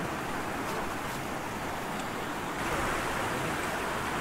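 A strong rain-swollen stream at Batis Bangkuro in Nagcarlan, Laguna rushes past nearby, a dense, steady roar of water lasting the whole stretch with no voices.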